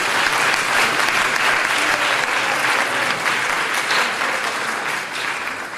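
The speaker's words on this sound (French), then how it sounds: "On peut déjà applaudir, oui, merci." An audience at a social work school's international week event gives steady, dense, full-room applause that holds throughout and tapers slightly at the end.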